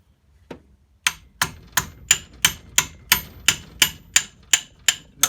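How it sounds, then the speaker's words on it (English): A hammer taps the piston pin out of a 2019 RM 250 dirt-bike engine: one faint tap, then about a dozen crisp metallic knocks in an even, steady rhythm, close and loud. "and then just giving it a tap with the hammer."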